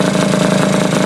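A Honda Elite 50 scooter fitted with a 30mm carburettor idles up close with a loud, steady, rapid pulsing buzz.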